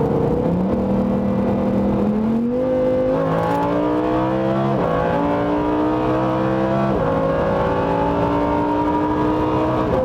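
Loud, continuous engine of a Lamborghini Huracán Performante under hard acceleration, rising in pitch through successive gear changes with brief drops between shifts, close and alone without talk.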